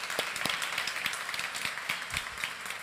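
A small group claps and applauds guests at a talk, giving a steady patter of hand claps heard from some distance and at a moderate level, with no voices standing out.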